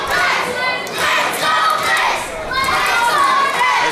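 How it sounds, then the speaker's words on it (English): A wrestling arena crowd cheering and shouting for wrestler Adrian Bliss, loud, close waves of excited yells and high-pitched voices rising and falling together, with no commentary over them. "They're cheering for their hero."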